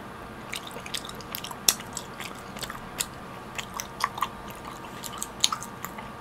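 Soft jelly candy being bitten and chewed close to the mic, a series of small moist squishes and bites scattered over quiet background, no talking.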